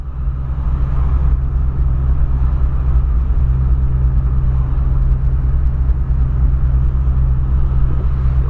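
Volkswagen Polo driving on the road, a steady low engine drone and tyre rumble filling the cabin continuously at an even, loud level throughout.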